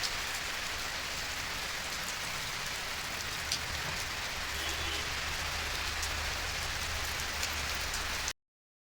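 Steady rain falls outdoors in a continuous, even hiss that persists for the whole stretch, with no voices and no thunder.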